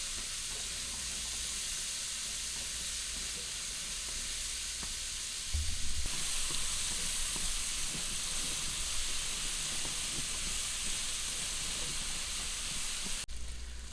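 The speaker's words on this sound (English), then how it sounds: "And we're gonna cook down the onion." Onion cooks down in a frying pan over lowered heat, giving a steady soft sizzle and hiss with occasional stirring clatter, close and continuous throughout.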